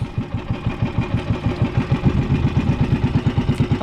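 A boat engine revs on rough water, a loud, close, rapid chugging pulse that keeps an even rhythm and grows slightly stronger.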